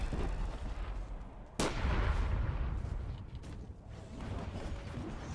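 A single sharp sniper gunshot from a quick-scope flick shot on a hoverboard in a video game cracks loudly, then a rumbling tail trails off over steady game ambience.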